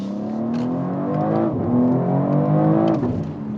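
BMW X3 M Competition SUV accelerating hard from inside the cabin, engine note climbing steadily through the gears with brief dips at each shift, loud and close, no talking.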